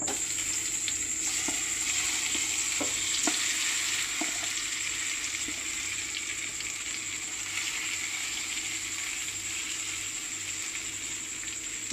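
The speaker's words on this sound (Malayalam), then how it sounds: "ഇനി ഇതിലേക്ക് നമുക്ക് മാരിനേറ്റ് ചെയ്ത് വെച്ചിരിക്കുന്ന ചിക്കൻ ഇട്ട് കൊടുക്കാം." Marinated chicken frying in oil for Thrissur-style chicken chukka, a steady close hiss of sizzling with a high whine and scattered light pops and clicks early on, fairly quiet and with no speech.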